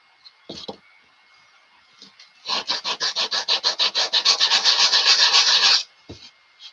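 Steady rasping strokes of a file knocking drilling fluff off the wood of a model plane fuselage, about fifteen quick back-and-forth passes in a close, even run, bracketed by a few light knocks and scrapes.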